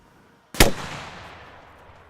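A rocket launcher fires in Arma Reforger: one sharp, loud blast out of near silence, followed by a long rumbling echo that slowly fades.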